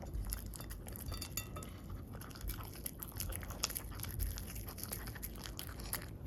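A dog eats from a metal bowl, with steady clinking and scraping and occasional crunchy bites, close by and continuous.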